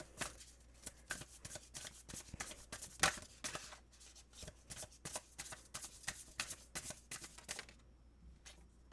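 Tarot cards shuffled in a quick, steady run of crisp riffling snaps close up, continuing for several seconds before tapering off near the end.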